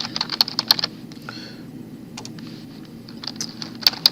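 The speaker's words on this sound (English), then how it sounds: "and then you type in your question" Close clicking keystrokes on a computer keyboard come in quick irregular bursts with a brief pause mid-way, no talking.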